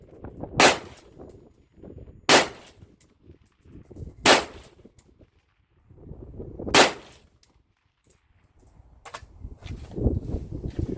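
A Bravo Company rifle fires five sharp, loud shots at a shooting range, spaced roughly two seconds apart. Quiet handling sounds and background rustle fill the gaps between shots.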